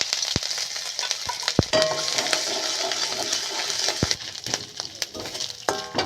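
Ginger paste sizzles and spits in hot oil with nigella seeds, giving a steady bright frying hiss with a few sharp clicks and scrapes from stirring. The sound stays close and fairly loud, with no talk over it.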